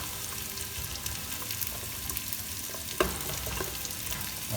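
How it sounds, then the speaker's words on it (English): Potatoes going into a pot of spiced vegetable chowder bring a steady, close sizzle and bubbling with one sharp clatter partway through, no voices heard. "I'm going to add my potatoes to it"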